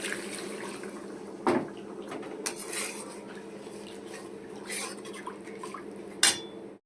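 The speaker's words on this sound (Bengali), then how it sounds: "এবার আমি জল দিয়ে দেবো।" Water goes into a pan of vegetarian jackfruit kofta curry, with clinks and knocks of the pot and utensils and a soft running-water wash between them, at close range.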